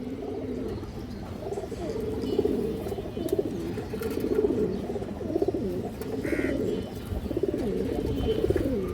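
A female high flyer pigeon of an old chhapchila racing line coos in soft, repeated low murmurs close by, steady throughout with a faint background hum.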